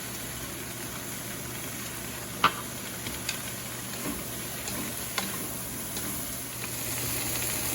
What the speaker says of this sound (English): Finish up the stir fry.